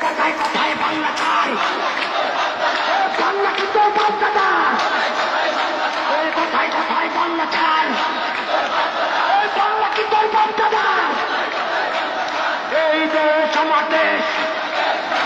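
A crowd at a political rally in Gopalganj chanting slogans, a dense continuous wash of many voices shouting in a steady rhythm, loud and sustained throughout.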